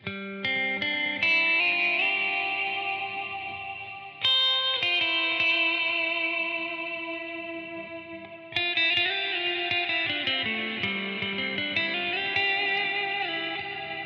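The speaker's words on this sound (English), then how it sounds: "if you pair your delay with your reverb, so the 2 settings we just made, you get this" Electric guitar plays sustained chords and notes through a Strymon Timeline delay and BigSky reverb, soaked in echoing delay and lush reverb, each strum ringing out and trailing into repeats.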